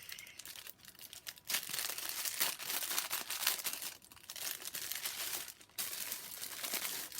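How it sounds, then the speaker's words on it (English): Packing paper crinkles and crackles almost nonstop as it is unwrapped close by, loud and dense, with only a few brief pauses in the rustling. "I hate the crackling of this paper,"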